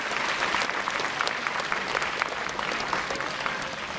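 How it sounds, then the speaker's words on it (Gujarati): Audience applause at a district-level celebration of Bhagwan Birsa Munda's 150th birth anniversary, a dense, steady clapping from a sizeable crowd that fills the whole moment without pause. "દીકરાને પણ તાળીઓના ગડગડાટથી વધાવી છે"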